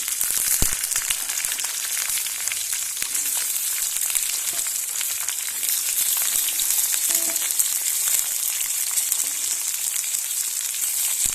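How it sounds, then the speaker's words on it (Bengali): Potato pieces frying in hot oil in a pan for a spicy tiger prawn curry, a steady close crackling sizzle that runs throughout, with a few faint stirring scrapes and no talking. "আলুগুলো তেলে ছেড়ে দিয়েছি"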